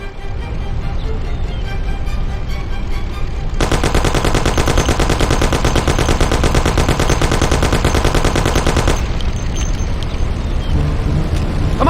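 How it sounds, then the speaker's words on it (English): Thompson submachine gun firing a long sustained burst in the Mafia: The City of Lost Heaven game, a loud dense rattle lasting several seconds over a constant rumbling engine-like background, with steadier noise before and after. "Take my Thompson. You and Sam shoot them."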